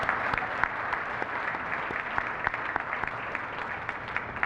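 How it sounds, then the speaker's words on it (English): A luncheon audience claps for the silver sponsors, sustained applause with distinct individual hand claps standing out, no voices on top. "could I ask for a round of applause for our silver sponsors?"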